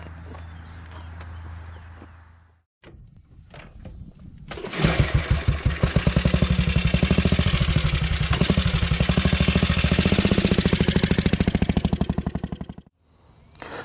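AJS 18S / Matchless G80 single-cylinder four-stroke motorcycle engine turns over, then fires and settles into a loud, steady idle of rapid even thumps before cutting off abruptly, with no talk over it.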